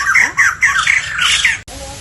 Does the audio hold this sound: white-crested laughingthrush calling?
yes